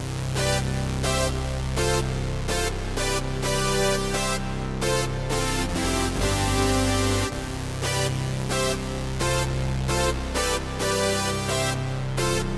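A Roland JD-Xi synthesizer plays a looping chord sequence, sustained chords shifting in steady rhythm over a constant low bass layer, loud and continuous with no talking.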